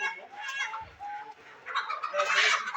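Male chickens, eleven birds being moved, cluck in short repeated calls close by, with denser overlapping clucking toward the end and no talk.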